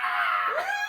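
A single voice imitates the loud screech of a gigantic, reptile-looking bird during a tabletop fantasy game: a strained, sustained shriek that bends in pitch midway, close and loud, lasting under a second.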